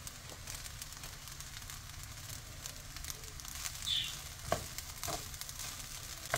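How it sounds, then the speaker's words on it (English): Soft sizzle and scraping of egg being stirred into shrimp fried rice in a hot pan, a low crackling bed with a few sharp spatula clicks and taps near the end. "Now I'm going to add my egg that was done earlier. You can just mix that out in the rice."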